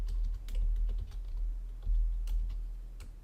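Close, rapid keystrokes clatter on a computer keyboard in bursts of several clicks as a table title is typed in a word processor.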